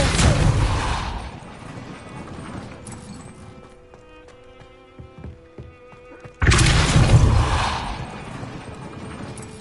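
Confringo spell blasts in Hogwarts Legacy: a loud crackling burst that dies away into a quiet stretch with faint chimes and clicks, then a second sudden, heavy blast that lingers.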